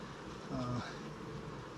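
Honey bees buzz around an open hive during comb cleaning, a faint low hum with a brief louder buzzing note close by.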